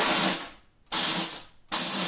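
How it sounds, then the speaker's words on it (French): A Vapodil steam cleaner purges dry steam in three loud, close hissing bursts separated by short gaps, with no talking. "Donc je me munis bien sûr de mon Vapodil, je vais purger. Voilà, pour être en vapeur sèche"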